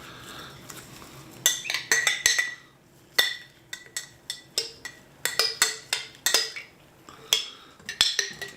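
A utensil scrapes and clinks against the inside of a glass jar while scooping out leftover fermented hot sauce, making a close series of sharp metallic taps and grating scrapes in irregular bursts, with no talking.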